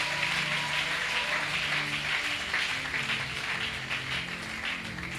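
Congregation applauding and cheering in a church, a dense, steady wash of clapping that stays fairly loud and continuous throughout with no break.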